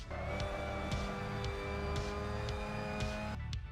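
A Mazda MX-5 Cup race car at Brno Circuit in the Assetto Corsa racing game drones steadily at high revs, with a string of regular, quick gear or rev pulses and a sudden drop at the end.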